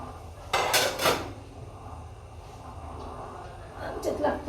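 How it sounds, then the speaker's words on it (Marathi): Pots and a pressure cooker clanking in a home kitchen, two sharp metallic knocks early, then a quieter stretch, then more rattling near the end. "कुकर लावते आता"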